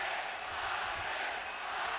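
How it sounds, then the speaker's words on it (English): A large boxing arena crowd roars steadily as a dense, distant wash of voices, a chant for Marquez blending into the continuous noise without distinct words or breaks. "Crowd is chanting Marquez, Marquez, Marquez, trying to get their star started early"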